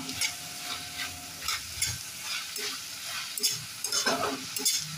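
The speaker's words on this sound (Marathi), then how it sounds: "आता आपण घालूया बारीक चिरलेला टोमॅटो। तो पण छान मऊ होईपर्यंत परतून घेऊया।" Finely chopped tomato sautés in a pan for upma, with faint sizzling under repeated scraping and stirring strokes of a spoon, coming in irregular bursts at moderate volume.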